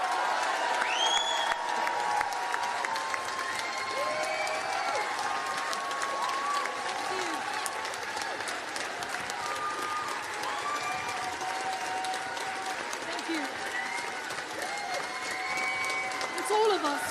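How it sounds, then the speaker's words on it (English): A large crowd claps and applauds for Labour MP Apsana Begum in a dense, continuous wash of hand claps with a few cheers rising above it. The applause runs steadily throughout. "So I want everybody to start clapping now and applauding and showing your love for Apsana Begum."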